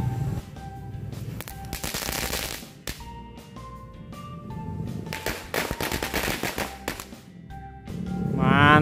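Mercon korek firecrackers, small Indonesian match-style fireworks, go off outdoors in loud broadband bursts of crackling pops, with a dense flurry early, another cluster a few seconds later and a whistling tone near the end.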